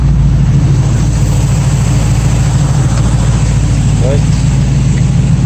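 A 1965 Ford Mustang engine idles with a loud, steady low rumble that holds constant throughout, close up, and a voice speaks briefly over it.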